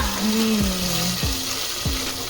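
Garlic cooking in a pan for pasta con ceci gives a loud, close, steady sizzle, with a few low tonal clanks and knocks from the pan over the hiss.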